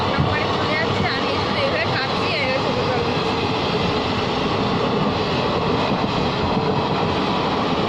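Loud, continuous rumble and rattle of a moving train heard from on board, steady throughout, with voices mixed in.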